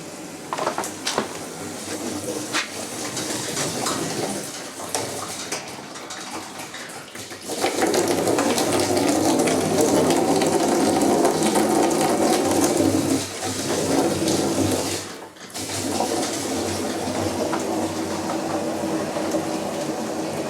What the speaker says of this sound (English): oh, sounds of lots of water.